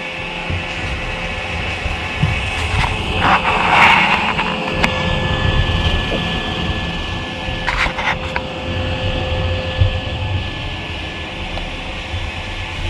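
An iRobot Roomba 960 robot vacuum cleaning a floor, reversing over a dirty patch, with a steady whirring motor hum and brush rumble, a few bumps and clicks, close and loud without talk.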